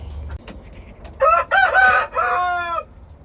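Rooster crowing once, a loud close cock-a-doodle-doo lasting about a second and a half, preceded by a few faint clucks.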